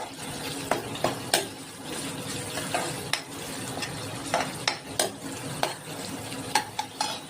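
Chopped tomatoes and onions sauté in a pan with a steady sizzle, broken by sharp scrapes and clinks of a spoon stirring against the pan at irregular intervals, close and alone.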